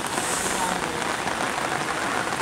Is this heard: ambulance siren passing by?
no